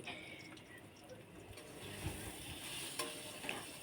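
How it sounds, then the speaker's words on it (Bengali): Vegetable curry being stirred in a frying pan, a soft continuous sizzle with occasional scraping taps of the spoon, close and steady, with no talk over it. "খেতে খেতে অবশ্য তরকারিটাও নাড়ছি"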